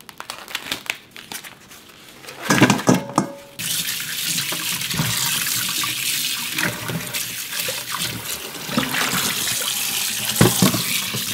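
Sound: running tap water while washing ox bones

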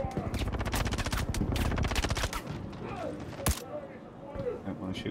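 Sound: S-71 gun firing in Star Citizen video game

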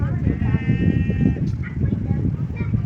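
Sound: sheep and goats bleating

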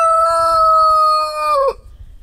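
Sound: chickens scratching and clucking

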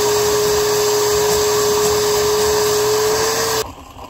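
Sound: shop vac vacuuming out a jeep fuel tank

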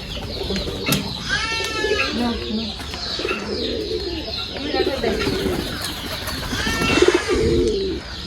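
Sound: pigeons cooing in a loft

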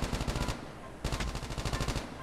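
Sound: gunfire in the video game COD Mobile

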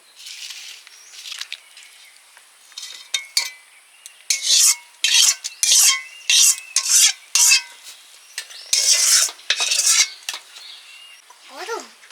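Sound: cooked food scraped from pan onto a plate

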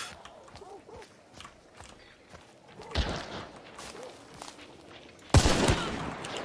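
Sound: gunfire from a video game shooter

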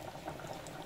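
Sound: food frying in a pot

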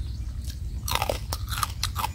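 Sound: crunchy chewing of pounded santol salad with crispy fish

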